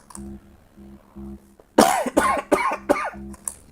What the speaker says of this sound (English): You all right there? Coughing.